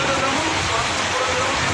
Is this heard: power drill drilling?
no